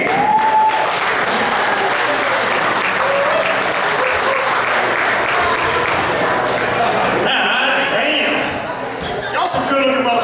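Audience applauding as comedian Richie King walks on stage at a comedy show, dense sustained clapping and cheers close and loud, with voices and whoops over it before it briefly dips near the end.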